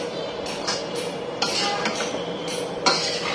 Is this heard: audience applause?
no